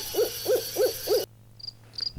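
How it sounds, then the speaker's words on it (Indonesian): Night crickets and insects chirp steadily while an owl hoots four times in an even rhythm, then the insect chorus cuts out, leaving a few faint high chirps in near quiet. "Terdengar suara jangkrik dan serangga-serangga malam lainnya, serta sesekali ditingkah suara burung hantu."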